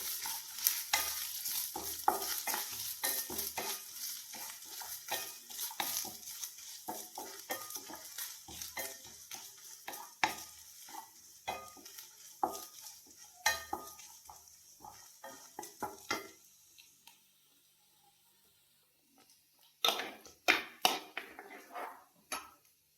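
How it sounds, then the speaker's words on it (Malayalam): Grated coconut is stirred into jackfruit erissery in a pan. A spoon scrapes rapidly and rhythmically over a soft sizzle, falls quiet for a few seconds, then returns with a few final scrapes. "കുറച്ച് തേങ്ങ ഇട്ട് കൊടുക്കാം ഇളക്കി കൊടുക്കാം നന്നായിട്ട്"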